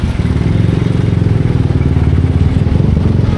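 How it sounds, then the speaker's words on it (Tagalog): Motorcycle engine idling steadily with a dense, rumbling low-end throb and rapid regular pulsing, loud and close throughout with no pauses. "Pero yung motor ni Chong, hindi pa ayos doon, mga man."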